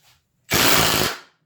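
A Milwaukee M18 brushless impact driver runs in reverse to back out screws, one loud sustained hammering burst lasting about half a second, close up, with no talk.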